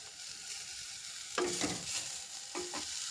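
A spoon stirs ground coconut paste into taro leaf thoran frying in a pan, with a steady sizzle underneath and two distinct scraping strokes against the pan, close and clear.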